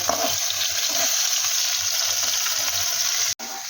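Hilsa fish pieces fry in hot oil with a steady, dense sizzle that runs close and loud, broken by a brief drop near the end before resuming.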